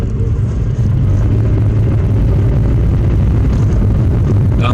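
Steady low engine rumble and road noise from a car cruising along after a cracked engine mount was replaced, loud and continuous with no talk.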